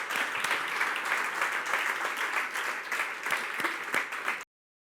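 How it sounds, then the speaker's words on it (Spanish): Sustained applause from an audience at a Spanish-language cooperation gathering, dense steady clapping that runs for about four and a half seconds and then cuts off abruptly into silence. "un aplauso muy grande"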